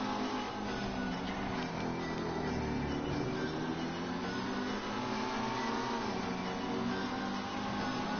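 A car drives steadily through GTA Online, its engine holding a continuous, fairly loud mid-range drone with gentle rises and falls in pitch and no talking.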